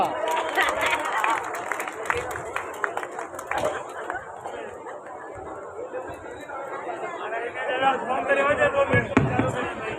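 Audience applause at a ceremony of a Pipa Kshatriya Darji community event awarding children, steady broadband clapping mixed with crowd chatter throughout, swelling louder near the end.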